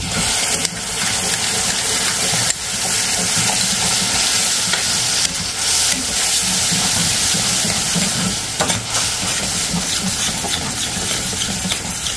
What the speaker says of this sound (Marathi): आता कांदा थोडासा लालसर परतून घेऊ. आता ही टोमॅटोची पेस्ट